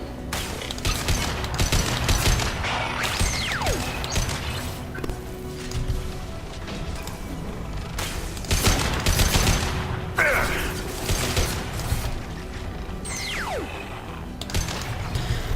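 Rapid bursts of gunfire rattle almost without pause during a firefight against Geth in Mass Effect 2, with mechanical weapon sounds, crashes and booms layered throughout at a steady, loud level.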